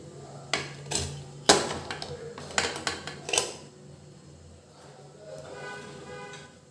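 A metal cake tin of plum cake batter is set onto a stand inside a pressure cooker, giving several sharp, loud metallic clanks and knocks followed by softer scraping and rattling.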